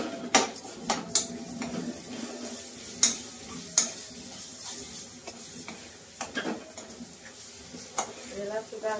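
Tomatoes tipped into hot oil with ginger, garlic and chilli for a Malvani crab masala curry, giving sharp utensil clinks and scrapes against the pan amid a soft sizzle, with a voice talking throughout.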